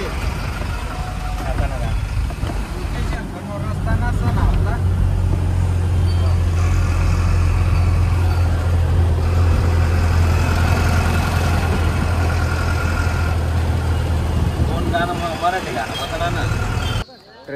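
Vehicles on a highway near Chandwad, with a steady low engine drone and a sustained idling-like hum running through most of the stretch, voices talking over it throughout.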